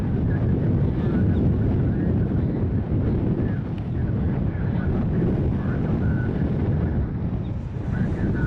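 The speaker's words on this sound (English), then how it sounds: "It's pretty breezy out here." Steady wind gusting past a microphone outdoors at an airport, a continuous low buffeting rush that stays loud and unbroken throughout, with no clear voices over it.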